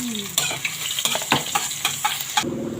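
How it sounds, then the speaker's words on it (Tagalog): Dried fish, onion and garlic fry together in a pan, a loud close sizzle punctuated by repeated sharp scrapes and clacks of a utensil stirring, ending with a brief shift in tone. "tuyo, sibuyas, bawang. Sabay na natin yan."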